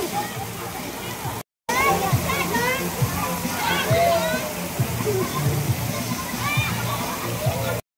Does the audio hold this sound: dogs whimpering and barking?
no